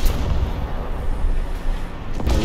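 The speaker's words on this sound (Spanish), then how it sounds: "Ya me están lanzando artillería." Artillery fire in War Thunder, a rumbling barrage of heavy booms and continuous low thunder, loud throughout, with a sharper blast near the end.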